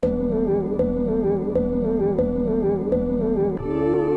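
A low, deep sampled musical loop on an MPC, pitched down an octave, with a repeating chopped phrase and periodic clicks at each repeat, shifting slightly in tone near the end.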